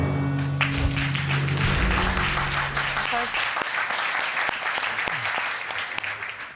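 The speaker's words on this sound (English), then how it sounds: "I saw you clap." A courtroom TV show's studio audience breaks into clapping, moderately loud and spread out, starting under a voice and then continuing alone as scattered claps taper off.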